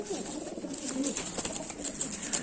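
Kalshira pigeons coo close by, including a male, with soft repeated coos and rustling over a steady background.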